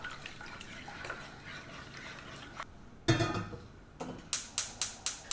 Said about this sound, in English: In a pot, add in dashi stock, soy sauce, mirin,